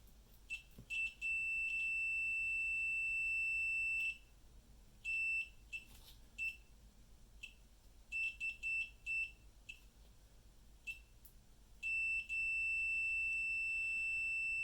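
A multimeter emits high electronic continuity beeps while its probes test a blue scooter battery wire. The beeps come in irregular bursts, some brief and some held for a second or more, and are faint against quiet background hiss.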